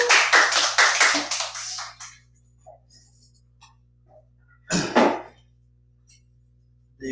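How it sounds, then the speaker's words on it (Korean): Audience applause welcomes a guest lecturer at an invited special lecture held at a church: a dense, loud burst of clapping for about two seconds that quickly dies away, then quiet and one short second flurry of claps. "강사님을 박수로 모시도록 하겠습니다"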